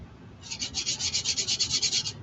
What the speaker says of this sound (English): So let's do a little bit of sanding.